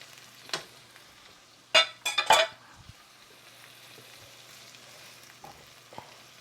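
Fresh corn stirred in hot oil in a pan: a low steady sizzle broken by a quick burst of scraping and clattering stirs near the middle, then softer occasional scrapes.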